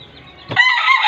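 A gamecock on a game farm crows once, loud and close, the call bursting out after a quiet moment of faint background noise.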